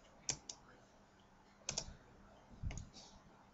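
A few sharp computer mouse clicks sound in isolated pairs and singles against a quiet room, close and faint, with soft handling noise between them.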